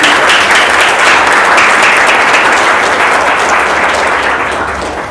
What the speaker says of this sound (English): So just a quick round of applause.